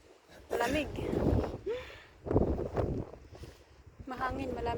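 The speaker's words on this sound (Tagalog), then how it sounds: "Mahangin, malamig." Cold wind gusting at a castle in Człuchów, Poland, rumbling as microphone buffeting in several loud surges, with voices talking over it.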